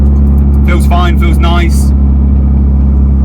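A Nissan Pulsar GTiR cruising in fifth gear hums with a loud, steady low engine drone inside the cabin, while someone speaks briefly over it.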